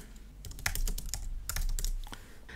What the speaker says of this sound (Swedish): Och sen är det bara att börja skriva.